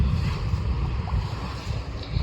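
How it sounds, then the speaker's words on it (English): Water rushing into a freshly dug reservoir behind a small dam built in a creek among black walnut trees, a steady low churning and gurgling flow with wind noise, continuous and close, with no voices. "that definitely increased the amount of water coming in"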